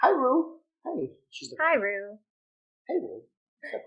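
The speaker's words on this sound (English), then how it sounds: "If you guys hear barking in the background" A small pet dog barks and yips in several short bursts, close by, with gaps between, while a person speaks to it.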